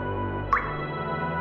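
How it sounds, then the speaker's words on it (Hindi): A single water drop falls and lands with one short, clear plink against a steady low hum. "अगर एक सेकंड में पानी की दो बूंद गिरती है"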